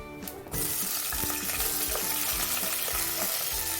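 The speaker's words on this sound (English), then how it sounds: "Once the oil is heated, I am going to add the onions" Onions dropped into hot oil for a country chicken curry, a loud sudden sizzle that settles into steady crackling frying with rhythmic stirring thumps and scrapes of the pan.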